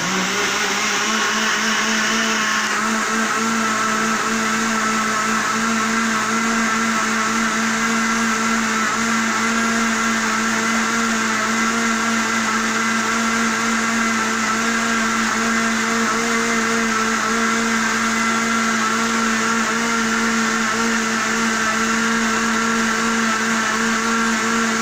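A blender runs steadily and loudly throughout, beating a grated cheese pudding batter, a constant whirring drone with no pauses and no talking.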